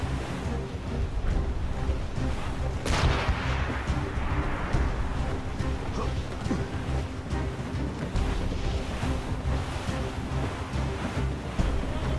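Ship cannons fire in a naval battle in Assassin's Creed Rogue, a sharp booming broadside burst near three seconds over steady ocean waves, wind and creaking vessel noise throughout.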